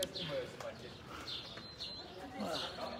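Birds chirp and call faintly outdoors at Lake Garda, seen from a cable car, their scattered tweets drifting in and out over a steady background hum while a person speaks nearby.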